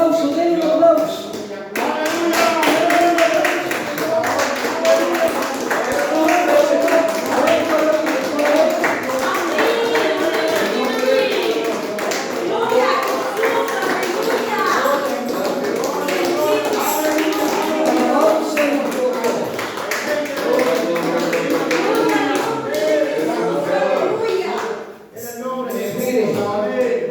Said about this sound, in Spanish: ¿Le quiere dar un aplauso? Denle un aplauso.